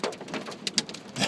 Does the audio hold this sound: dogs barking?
no